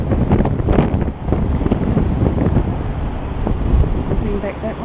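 Strong wind gusting across a balcony fifteen floors up on a Gold Coast high-rise, a loud, steady buffeting rush with rumbling microphone wind noise throughout.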